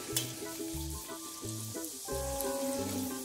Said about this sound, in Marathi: आता तळून काढते। हे बघा, तेल गरम झालं आहे।